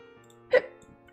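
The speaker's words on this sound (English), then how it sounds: "Ah, hiccups are terrible!" One sudden, loud hiccup near and alone, a single sharp voiced gulp that briefly breaks through a low, steady background hum.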